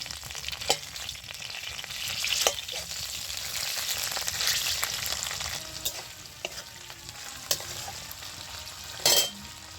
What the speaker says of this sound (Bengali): মাছের মাথাটা আমি খুন্তি দিয়ে কেটে দিচ্ছি, তাহলে ভাজাটাও ভালো হবে